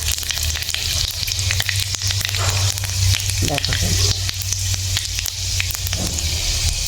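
Panch phoron spices hit hot oil while vegetarian mustard greens are being cooked, setting off a loud, steady sizzle with bursts of crackling and a few stirring sounds over a low background hum.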